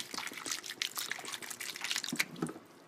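Strong Kangen water is poured over tomatoes, making a soft, busy patter of trickling and dripping that runs steadily for a few seconds, fairly faint and with no voices.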